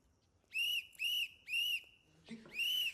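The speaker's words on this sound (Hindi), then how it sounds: "तुम्हारी सीटी की वजह से मैं 3 रातों से सो नहीं पा रहा हूं" A security guard's whistle blown at night, four loud shrill blasts in an even rhythm with a short pause before the last, alone against a quiet background.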